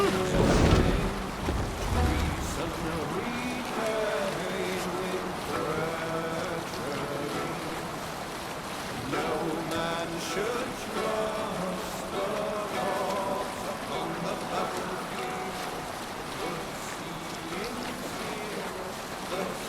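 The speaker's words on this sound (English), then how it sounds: "Raise the mast! Let the sail out!" A Viking longship sails at sea in the video game Assassin's Creed Valhalla. Steady wind, rushing water and waves wash past the hull continuously, with a louder surge at the start.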